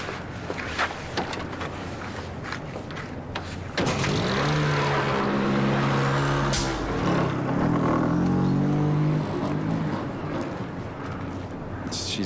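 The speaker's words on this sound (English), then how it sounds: "She's revving it up and breaking the clutch." A car engine revs up, climbing into a loud, sustained roar with rising pitch after some quieter clatter and background movement.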